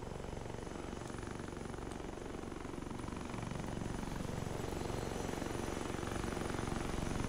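A helicopter with a tail rotor in the military game Arma 3 drones steadily and evenly, its rotor hum growing slightly louder partway through, with no talk over it.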